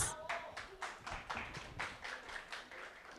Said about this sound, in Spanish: Un aplauso, se esforzaron, aprendieron los versículos, participaron.